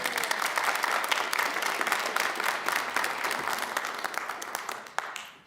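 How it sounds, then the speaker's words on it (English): Steady applause from a crowd at a bar mitzvah, dense and continuous clapping at a moderate distance that thins slightly toward the end. "We can let them clap again just one time."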